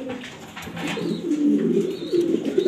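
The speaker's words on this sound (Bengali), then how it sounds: "এক্সিবিশন কবুতর ব্ল্যাক কালার, মাশাআল্লাহ বাচ্চা আছে সাথে" Black exhibition pigeons, a breeding pair with chicks, coo in soft low repeated rolling calls close by, with faint higher chirps in the background.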